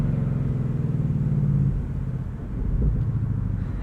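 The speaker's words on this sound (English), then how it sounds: "The burbles this thing makes." A 2020 Ford Mustang GT convertible with a Performance Pack and six-speed manual rumbles at low speed with a steady, deep exhaust burble, dipping briefly then swelling again, close and continuous.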